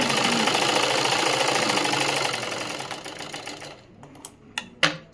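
A sewing machine runs a continuous stitching burst along a seam on a princess-cut blouse, then slows and stops, followed by a few sharp mechanical clicks close by.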